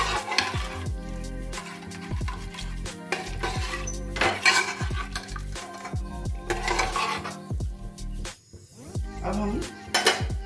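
Rice being stirred in a cooker pot for a Navratri fasting pulao, with repeated scraping and clinking of a spoon against metal and a faint sizzle, under background music.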